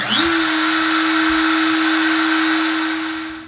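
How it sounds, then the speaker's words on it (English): The spindle of a Millright CNC router spins up quickly, then holds a loud, steady, high-pitched whine set between speeds 3 and 4, and begins to wind down at the end. "we have to tell the router what speed to go at"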